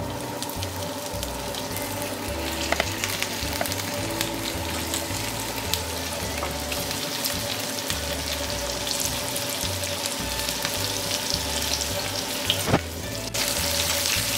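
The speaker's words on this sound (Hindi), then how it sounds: "ऑयल गर्म हो गया और पनीर को जो मैरिनेट करके रखा था वो तो फ्राई होने के लिए रख देती हूँ।" Marinated paneer fries in hot oil with a steady, even sizzle and crackle throughout, moderately close, with no speech.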